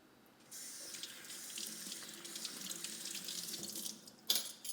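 Tap water runs steadily into a sink as vegetables are rinsed under the stream, a continuous close splashing hiss with a brief clatter near the end, no talking.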